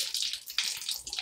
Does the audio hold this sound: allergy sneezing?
no